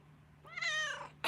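An indoor-outdoor house cat gives a single clear, rising-then-falling meow, close and moderately loud, followed by a brief sharp noise at the end.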